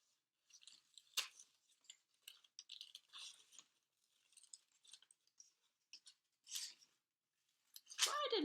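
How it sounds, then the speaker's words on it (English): Scissors snip through white paper in a series of short, crisp cuts, quiet and close, with irregular pauses between snips and a louder rustle at the end. "I'm just going to go ahead and cut out some wings for him."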